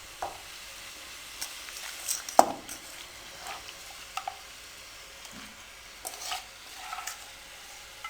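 Chicken pieces cook in a spice paste in a pan over a low flame, giving a faint, low sizzle broken by scattered scrapes and clinks as the mixture is stirred.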